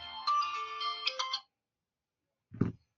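A phone ringtone plays a short melodic pattern of bright repeated tones for about a second and a half, then stops; a single dull thump comes shortly after in an otherwise quiet room.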